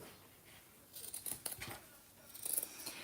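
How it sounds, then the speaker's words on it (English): Sharp scissors snip away excess cotton fabric while a sandwich wrap is being sewn, giving a few close, crisp cuts in two short bursts with quiet pauses between them. "Use your scissors and cut off this excess."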